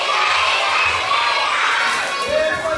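A crowd of children at a kids' show in a camp or school setting shouts and cheers loudly and steadily, a dense roar of young voices with cries rising over the top.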